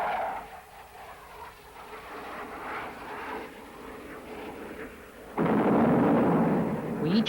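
Live bombs dropped by Hawker Siddeley SEPECAT Jaguar jets on a range target, heard as a distant, rumbling explosion that swells into a louder, broad roar in the final seconds.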